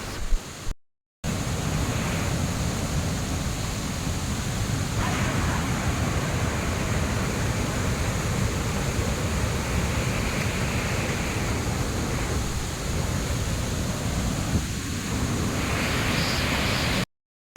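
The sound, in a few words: Surya Rashmi waterfall roaring at its base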